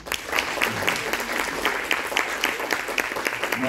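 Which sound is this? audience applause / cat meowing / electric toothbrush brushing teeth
audience applause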